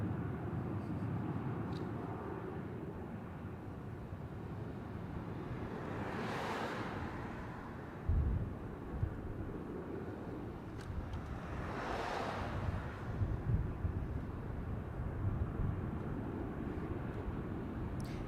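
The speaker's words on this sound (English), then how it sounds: "coming in on runway 25 here at Sydney is Qantas Link Flight 2016 from Broken Hill" A Qantas Link airliner landing on runway 25 at Sydney, a distant roar swelling and fading twice over steady wind noise and broadband rumble.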